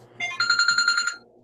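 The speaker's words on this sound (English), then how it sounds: "Hold on just a minute. I've got to answer the phone." A telephone at a travel agency office gives a single short electronic ring, a bright warbling trill lasting about a second, clear and close with no voices.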